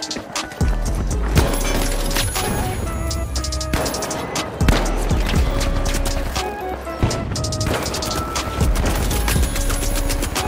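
Rapid sustained turret gunfire in the video game The Finals, loud and dense with heavy low thumps and repeated bursts across the whole stretch, no talk over it.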